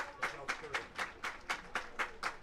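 Baseball crowd at an IBL playoff game between the Toronto Maple Leafs and Barrie Baycats clapping in a steady rhythmic beat, about four claps per second, moderately loud and carrying through the stadium before a 2-2 pitch.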